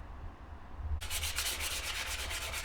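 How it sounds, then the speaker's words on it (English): Quiet room tone, then steady rhythmic sanding strokes begin on loose lacquer on a car steering wheel, a scratchy back-and-forth rubbing close by, repeating evenly without pause. "she started sanding down that loose lacquer on the steering wheel"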